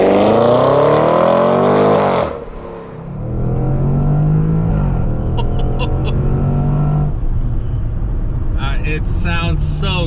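A 2020/21 Range Rover SVR engine roars loudly while accelerating, climbing in pitch, dropping briefly at a gear change, then settling into a steady drone, with a voice talking over it near the end.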